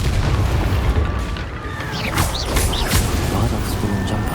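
The Incendio fire spell cast in Hogwarts Legacy: a loud burst of booming, roaring fire effects layered over dense game sound and music, with speech mixed in.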